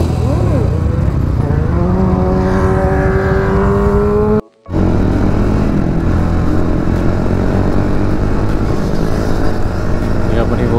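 Several motorcycles of a bike club idle and rumble together close by as a group ride gets underway, with engines revving and a voice speaking over the noise.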